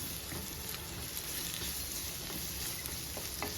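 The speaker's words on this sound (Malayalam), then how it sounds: "സവോളയും ഇഞ്ചിയും പച്ചമുളകും നന്നായിട്ട് വഴണ്ട് വരണം" Chopped onion, ginger and green chilli sautéing in a pan for a Kerala-style okra masala curry, giving a steady, even sizzle and crackle of frying with no pauses throughout.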